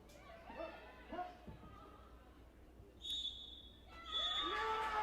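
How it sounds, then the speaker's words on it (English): A referee's final whistle sounds at a women's football match between Dulwich Hamlet and Ashford Town, one short sharp blast followed by a longer shrill blow, heard over crowd chatter and talk. "And that's the final whistle."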